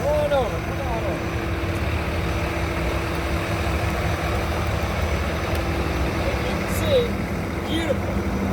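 John Deere 350G excavator, an 80,000-pound-class machine, idling with a steady low engine rumble, while someone talks nearby.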